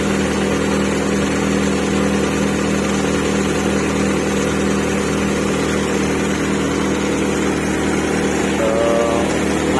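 A Hyundai Atoz car engine idles steadily, a continuous low mechanical hum that stays even and fairly loud throughout with no talking; the engine is said to still run quietly despite a transmission oil leak.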